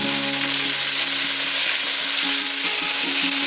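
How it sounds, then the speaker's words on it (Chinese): Cabbage stems, wood ear mushrooms and dried tofu stir-fry in a wok, a loud continuous sizzle with a spatula scraping and tossing now and then, no voices. "大约略炒一下，把黑木耳放进来"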